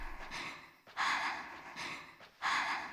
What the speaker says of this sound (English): Oh, we're breathing heavy.